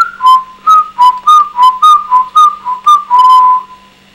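A child's whistle comes in quick, loud, close pulses, about a dozen short notes bobbing between two pitches before one longer held tone.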